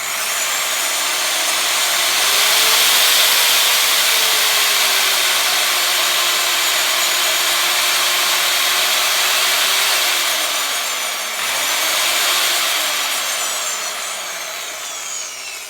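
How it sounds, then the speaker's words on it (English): Variable speed polishing machine with a green pad works a car bonnet, giving a loud continuous whirring drone whose pitch rises and falls as speed changes, with a brief dip before resuming. "It's a variable speed machine."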